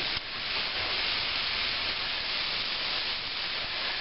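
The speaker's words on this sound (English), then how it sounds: "Now, we've got it sizzling here." Parboiled parsnips fry in butter in a pan, giving a steady, close hiss of sizzling that holds evenly throughout with no talk over it.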